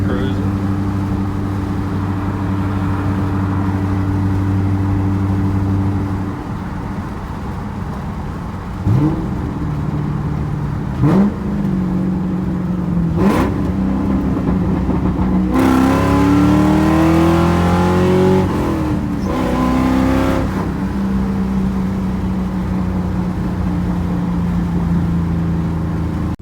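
A 400,000-mile Ford Mustang cruising in fifth gear: a steady, droning engine hum, close and continuous, with small shifts in pitch and a brief rise in revs midway, while people talk inside the car.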